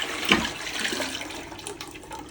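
A toilet flushes after a plumbing repair, a short close rush of water with gurgling and splashing that fades into quieter running water, with no speech.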